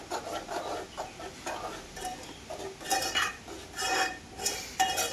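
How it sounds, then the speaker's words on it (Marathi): Roasted semolina is stirred in a pan for pumpkin gharge, a spoon scraping and rasping against the metal in steady close strokes, with a few louder scrapes near the end. "रवा घातल्यानंतर थोडंसं ढवळायचं."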